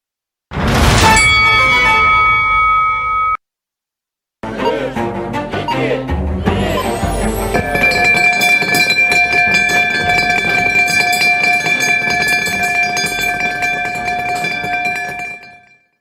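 A loud metallic stock exchange opening gong at Borsa Istanbul rings out with a long, shimmering sustain, pauses briefly, then is struck again and rings on for several seconds.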